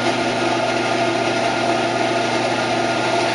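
A small blower fan on a solar air heater runs steadily, giving an even, constant whir with a faint high whine and no change in level.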